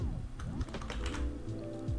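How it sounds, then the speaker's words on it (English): Fast, light keystrokes on a computer keyboard, a short close burst of soft rapid clicks at an even pace with no voices. "And now I could just type in buy egg or something."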